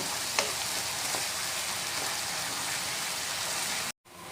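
Bengali chili-and-spice paste frying in a pan for a fish curry, a steady close sizzle with a few sharp crackles near the start and a brief cut to silence near the end.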